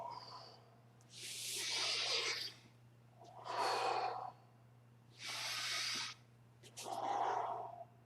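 Slow deep breaths during a morning martial arts workout, four long loud inhales and exhales alternating evenly over a faint steady hum.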